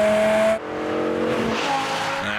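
A BMW M6 drives fast on the Isle of Man TT road course. A loud, close engine note with rising and falling harmonic pitches is cut sharply by a gear change, followed by a strained roar as it accelerates.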